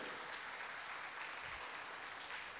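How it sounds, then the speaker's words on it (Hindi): Applause from a seated audience at a condolence gathering, a faint, distant, even patter of many hands clapping without a break. "इतनी बड़ी शख्सियत के लिए एक ज़ोरदार तालियां बजाइए"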